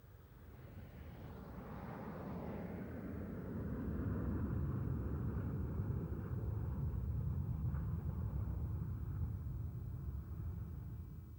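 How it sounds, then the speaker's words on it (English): Red Arrows RAF aerobatic jets climb steeply away at an air display, a broad distant roar that swells over several seconds and then holds as a steady rumble, with no voices. "the main section raises its undercarriage and starts a steep climb away"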